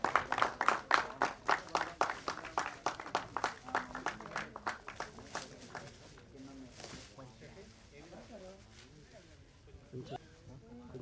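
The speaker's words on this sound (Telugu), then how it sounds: "2 చప్పట్లు కొడితే చాలండో." An audience at a tailoring company's logo launch claps in a quick burst of loud rhythmic applause that fades after about six seconds, followed by people talking.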